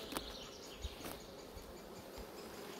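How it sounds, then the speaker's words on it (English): Honey bees in a hive with a brood box and three supers full of bees, a steady dense hum and buzz filling the whole stretch at low level with a few faint ticks. "Got a brood box here, three supers, absolutely full to the brim of bees."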